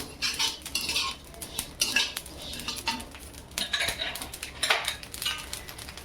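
Whole cumin seeds are dry-roasted in a pan for homemade Agri Koli masala, with a utensil scraping and clinking against the metal in irregular bursts, close and fairly quiet, seeds rustling between strokes.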